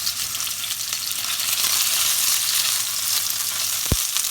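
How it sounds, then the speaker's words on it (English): Steady, bright sizzling of food frying in a pan, continuous and close, with a brief thud near the end. "When a pan is sizzling, you know you're actually cooking"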